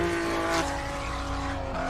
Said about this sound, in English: Nico Nicolaides going out in a Toyota Supra.